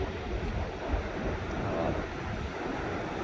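Steady rushing water and wind roar together, a broad constant wash of noise with no voices.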